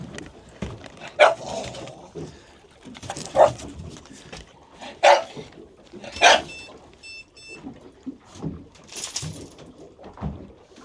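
A dog barks in loud, sharp bursts spaced a couple of seconds apart aboard a boat at anchor at sea, with a brief electronic beeping in between and low background noise.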